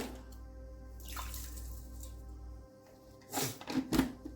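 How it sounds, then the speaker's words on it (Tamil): Water splashes and trickles in short bursts near the end as it is poured over banana flower with salt, after a quieter stretch with faint handling sounds. "பார்த்தீங்கன்னா கொஞ்சம் தண்ணி ஊற்றிக்கிங்க"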